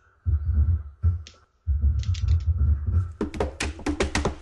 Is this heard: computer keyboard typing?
yes